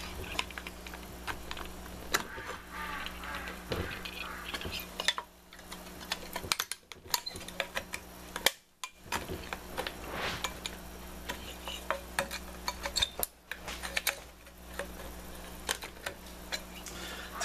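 A chisel working around the metal of an aluminum can, a long run of light irregular ticks and scrapes, close and fairly quiet, with brief pauses between bursts.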